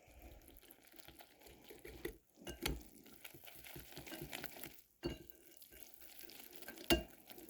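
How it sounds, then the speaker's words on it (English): Eggs being whisked into a melted butter mixture, giving soft, irregular scraping and sloshing strokes with a few sharper knocks of the whisk against the bowl, fairly quiet and close, no voices. "Now I'm to add in 2 eggs and whisk."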